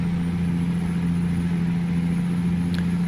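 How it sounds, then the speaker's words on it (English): Steady idling rumble of a heavy semi truck engine in American Truck Simulator, a constant low drone holding evenly throughout with no talk over it. "That truck sounds so beautiful."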